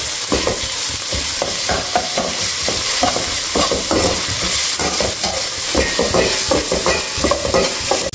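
Ginger garlic paste stir-fries in a pan for chicken egg fried rice, with a steady sizzle under quick, repeated scraping and stirring strokes, loud and close.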